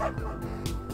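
A small dog yips and barks in Always Sometimes Monsters, a couple of quick close barks over a continuous musical background.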